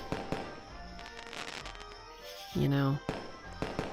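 Fireworks bursting at a summer fireworks festival, a series of sharp distant pops and thuds scattered across the moment, with a soft voice speaking close over them and a brief tonal whistle-like rise midway.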